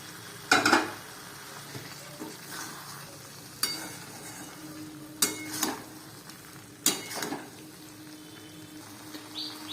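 Fried vegetables and paneer being stirred in a pan for navratan curry, with a low sizzle under several sharp scraping strokes spaced a second or two apart, close and moderately loud.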